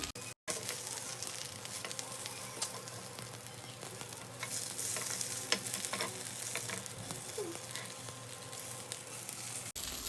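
Soybean and potato tikki fry in a pan, giving a steady sizzle with scattered crackles and small pops at moderate level, opened by a short cut and ending in a brief dropout.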